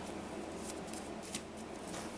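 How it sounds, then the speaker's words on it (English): Three small piles of playing cards shuffled briefly for a solitaire print-and-play game, giving soft riffling and shuffling rustles close by under a steady room hiss, with no talk. "we're going to give these 3 little piles a quick shuffle"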